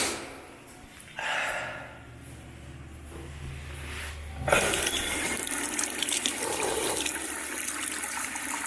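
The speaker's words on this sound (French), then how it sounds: "la chasse d'eau elle marche pas bien sûr" A toilet that is not working properly is flushed, with a brief gurgle followed by a loud sustained rush and gush of water that keeps running to the end.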